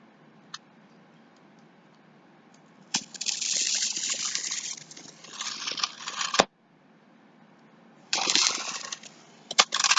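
An X-Acto knife cuts straight lines through cardboard, giving two stretches of close scratchy slicing separated by quiet, with a few sharp clicks and taps between.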